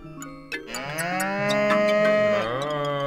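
Loud, close cow moo in a video game, one long drawn-out call rising and falling over about three seconds, heard alone without talk.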